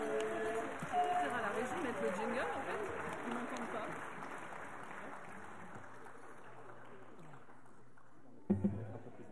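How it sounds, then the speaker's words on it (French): Applause from a gathered audience at a reception for a regional team of World Skills finalists, a steady, fairly faint wash of clapping that fades out, with a brief knock near the end. "je demande de les applaudir encore une fois"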